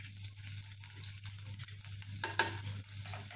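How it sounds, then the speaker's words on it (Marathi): Mustard seeds and cumin sizzle in hot oil as they are stirred in a pan, making a steady, faint crackle over a low hum. "तर मोहरी छान तळतळली"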